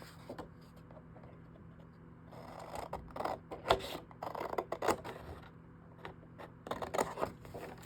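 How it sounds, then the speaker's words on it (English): Scissors cutting through a 12x12 sheet of patterned paper for a handmade mini album: soft, close snips and rasping slides that come in uneven bursts, with quiet pauses between them. "We're going to cut right here, and we're going to stop at that first score line right there."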